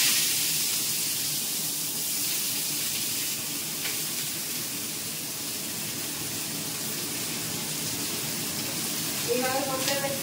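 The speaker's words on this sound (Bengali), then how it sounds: "শুকনো লঙ্কা ফোড়ন দিলাম, দিয়ে এবার আলুটা ছেড়ে দেবো।" Potatoes go into hot oil tempered with dry red chillies and five-spice, giving a steady, soft sizzling hiss, with a brief voice near the end.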